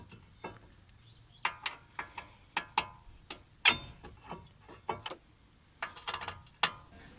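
A ratchet tightens brake caliper bolts on a 2007 VW Passat with electric handbrake, giving sharp, close metallic clicks in irregular bursts over quiet background.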